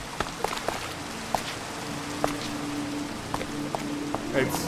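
Rain falls in a video game as a steady hiss of patter, with scattered sharper drops and clicks breaking through at irregular intervals.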